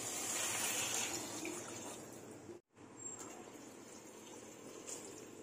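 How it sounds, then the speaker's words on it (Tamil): Water poured into a pan of semiya biryani, a soft continuous close pouring and splashing that breaks off briefly midway, then resumes as a lighter trickle and simmer. "இந்த பிரியாணிக்கு தகுந்த தண்ணி ஊற்றிக்கலாம்"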